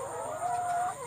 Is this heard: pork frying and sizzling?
no